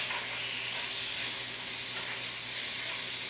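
Chicken frying in a pan with ginger and jalapenos, a steady, loud, close sizzle with a constant hiss and no talking.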